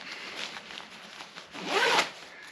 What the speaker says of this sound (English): these just zip up